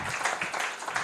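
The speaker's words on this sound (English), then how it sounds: "let's give a very big clap to all of them who are here" An audience at a Rotary event claps in a brief burst of dense, even applause from many hands, moderately loud and without voices.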